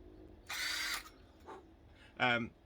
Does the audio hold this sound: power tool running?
yes